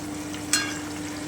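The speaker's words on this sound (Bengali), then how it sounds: "তেলটা কিন্তু গরম হয়ে গেছে এতে আমি তেজপাতা দারচিনি এলাচ লবঙ্গটা দিয়ে দিচ্ছি আমি একটুখানি নেড়ে নিচ্ছি" Bay leaf, cinnamon, cardamom and cloves added to hot oil, giving a steady close sizzle with a brief bright hiss midway as they hit the pan and are stirred.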